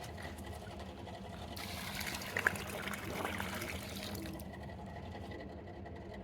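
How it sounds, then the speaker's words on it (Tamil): Water trickles and pours steadily onto plants in a small home garden for several seconds, a soft continuous splashing with no voices. "இன்னும் கொஞ்சம் தண்ணி மட்டும் வந்து ஊற்றுவா தண்ணி பத்தாது இன்னும் கொஞ்சம் ஊற்று"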